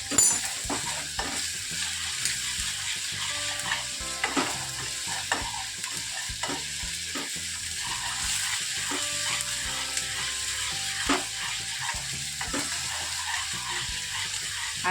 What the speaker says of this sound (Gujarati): થોડીક વાર આપણે ડુંગળીને આમાં તેલમાં શેકશું